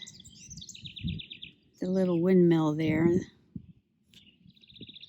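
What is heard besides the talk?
house wren singing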